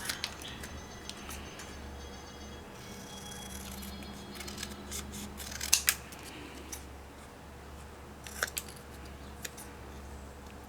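Paper being trimmed for a handmade Christmas stamped card, a few quiet snips and slicing strokes with short sharp clicks amid low room hum, no voices.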